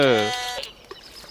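A goat bleats once in the mobile game Walk Master, where a goat rides a wooden horse. The short, wavering cry comes up close and loud at the start, then fades into quiet game background.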